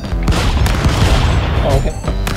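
Gunfire in the video game Stick Fight: The Game, a loud run of booming shots and bursts packed closely together under excited talk from players.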